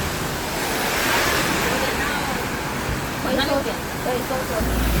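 Sudden heavy downpour on a city street in the Philippines, a loud continuous wash of rain noise with some wind buffeting on the microphone, while a voice talks briefly near the end.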